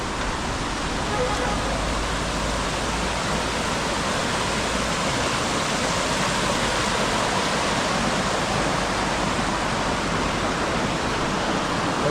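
Water flows steadily beside a village road, a loud, even rushing hiss with no breaks or changes, close by and alone throughout.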